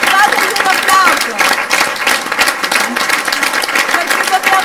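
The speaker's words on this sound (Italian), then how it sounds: "fatemi un applauso" Audience applause at a live theatre event, a steady dense wash of many hands clapping together across the whole stretch, fairly loud and continuous with scattered voices mixed in.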